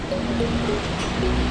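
Water pours down a waterfall beside the forested Kedarnath trail, a continuous close rushing wash that stays even throughout the short moment with no voices.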